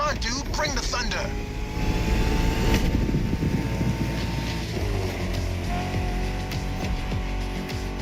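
An American muscle car engine in the racing video game The Crew Motorfest rumbles steadily with a deep droning tone under background music, holding a fairly constant pitch throughout.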